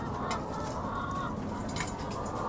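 Caged hens in a UK egg farm shed cluck and squawk in a dense, continuous din, many birds at once filling the space with a constant low roar beneath scattered sharper calls.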